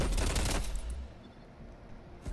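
LMG machine gun in Black Ops Cold War, a quick rapid burst of loud shots opening the clip, then a fading tail into quieter ambience and a brief sharp hit at the end.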